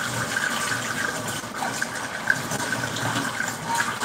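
Running water splashes steadily while cookware and utensils are rinsed in a kitchen sink after preparing meat, a continuous close gush with no talking.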